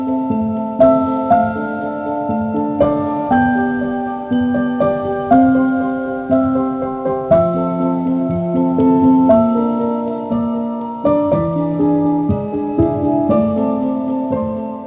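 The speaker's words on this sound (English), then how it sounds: "So I tried it with a celeste this time, and it sounds gorgeous," A Spitfire Audio celeste sample layered with piano plays a gentle, dynamic melody of chiming, bell-like notes over sustained lower tones, close and fairly loud with no talking.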